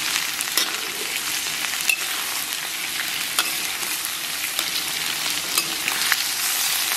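Scallion and ginger are stir-fried in a wok after beef, a continuous close hiss and crackle of hot oil with faint scraping of stirring, steady throughout and free of speech.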